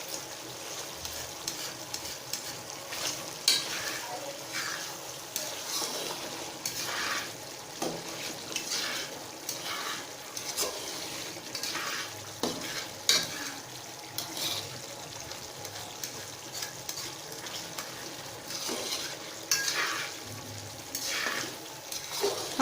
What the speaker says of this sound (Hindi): इसको पकते हुए देखिए 10 मिनट हो चुके हैं। अब हम इसकी अच्छी सी भुनाई कर लेंगे।